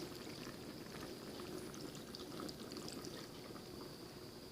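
Water poured from a cup into a pot of mustard greens and rutabaga stew, a faint, steady stream with a soft continuous trickle for several seconds, no voices.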